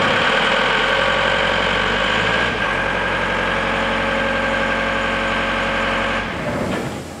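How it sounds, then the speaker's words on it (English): An Atlas Copco XAS185 air compressor engine runs at a steady idle with a constant low hum and rumble, then winds down toward the end. "You run it to ignition start, and then it'll take up, get to full revs"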